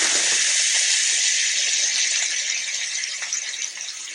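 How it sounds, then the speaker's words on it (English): Loud, steady sizzling fills the air as cabbage is added to a hot pan of browned onions, a bright continuous crackle and hiss with faint clinks, easing slightly toward the end. "So now that I have a little color on my onions, I'm going to add my cabbage."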